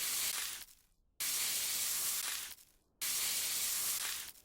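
Spraying to clean an object in the video game Workshop Simulator: two long, loud bursts of broadband hissing, each stopping abruptly into a short quiet gap before the next, with no talk over them.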